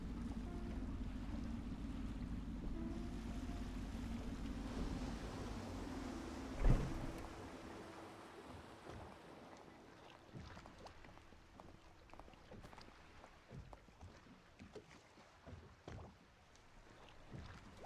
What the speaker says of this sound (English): Oh, I should concentrate on piloting this boat.